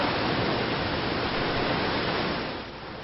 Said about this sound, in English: Over 600 feet tall and flowing year-round, Bridal Veil Fall would be a centerpiece in almost any other national park